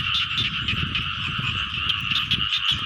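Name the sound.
frogs croaking in flooded field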